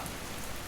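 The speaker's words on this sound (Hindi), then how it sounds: "मेरे कानों में सिर्फ बारिश की आवाज गूंज रही थी।" Heavy rain pours steadily onto a road, a dense, continuous hiss of drops with no pauses, loud and close.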